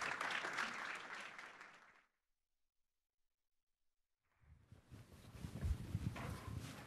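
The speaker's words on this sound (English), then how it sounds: "Round of applause." An audience at an aerospace company's investor day claps for the next speaker in two bursts of dense applause separated by a couple of seconds of near-silence, the later burst heavier and closer, with no talk over it.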